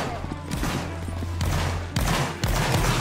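Musket volleys crash out in a Napoleonic Wars game battle, three or four loud bursts of massed gunfire a beat apart, each a sharp crackling salvo, with a player's voice heard faintly underneath.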